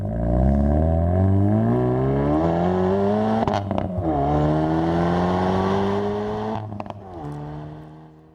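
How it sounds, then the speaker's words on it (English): Hyundai Veloster N engine and exhaust revving up through the gears, a loud close rasp that rises in pitch, drops briefly at each shift, then climbs again before easing off near the end. "just listen to this exhaust note"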